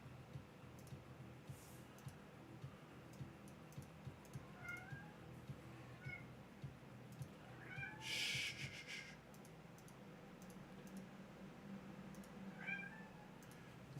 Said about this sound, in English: That cat is such a character.